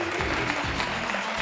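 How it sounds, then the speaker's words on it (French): A French television studio audience on its feet applauds continuously, a dense, even roar of clapping that fills the short stretch without pause. "je vous demande de rester debout et de recevoir Marianne avec des acclamations, s'il vous plaît."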